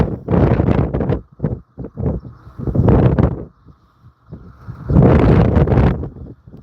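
Strong gusts batter the microphone outdoors at an airport near shut-down wind turbines, producing loud, irregular rumbling bursts that come and go over several seconds, with a faint steady hum beneath.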